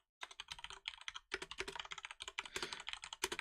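Rapid, uneven keystrokes clatter on a computer keyboard, close and distinct, with a few brief pauses between bursts of typing and no talk.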